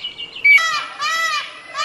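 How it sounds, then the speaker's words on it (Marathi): A whistling thrush sings in a deep Sahyadri valley, clear melodious whistled phrases repeating in loud close bursts with short gaps. "सह्याद्रीच्या खोल दरीतून शीळ कस्तुराची सुरेल शीळ कानावर पडते आहे."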